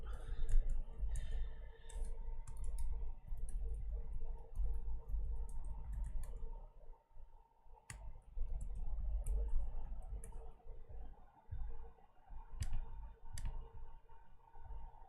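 Keys on a computer keyboard click in quick, irregular bursts close to the microphone, with a low hum and a few sharper clacks standing out.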